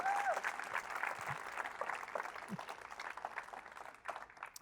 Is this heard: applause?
yes